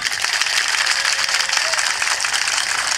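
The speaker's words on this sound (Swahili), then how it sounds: "makofi ya vijana peke yao, makofi ya vijana." Youths at a political rally break into dense, sustained applause, a loud unbroken wash of clapping from a large crowd lasting throughout, with no talking over it.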